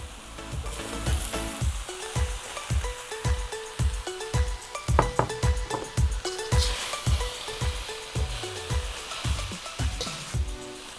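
Green bell peppers stir-fried in a hot pan: steady loud sizzling with a regular scraping rhythm of a spatula tossing the pieces, close up and without voices.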